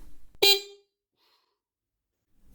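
A short electronic horn beep from a Dualtron Storm Limited 2024 electric scooter sounds once, bright and close, after a faint shuffle, then silence.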